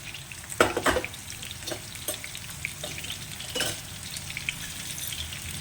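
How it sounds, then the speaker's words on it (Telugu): Tempering seeds such as urad dal, mustard and cumin crackle and sizzle in hot oil, with scattered sharp pops and a stirring scrape over a steady frying hiss. "మనము ఈ నూనెలో తాలింపు గింజలు వేసుకోవాలి"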